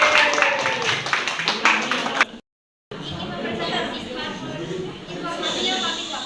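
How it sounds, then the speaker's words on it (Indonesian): Classroom clapping after a student presentation, brisk scattered claps with chatter, briefly cut off by a gap of silence, then continuing as softer murmuring noise. "Tepuk tangan, tepuk tangan,"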